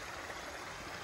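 A small river in Mozzate, Italy, flows with an even, soft broadband rush of water, faint and continuous with no voices.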